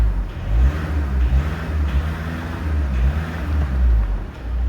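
Volkswagen Caddy 2.0 TDI diesel engine idling just after starting, a steady low rumble with faint fluctuations in level, close and alone.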